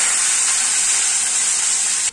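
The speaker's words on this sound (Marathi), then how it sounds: "या ठिकाणी आपण फोडणी देऊया। 1/2 चमचा मोहरी, 1/2 चमचा जिरं" Mustard seeds and cumin hit hot oil for a tempering, giving a loud, bright, steady sizzle up close that stops abruptly at the end, with no voices.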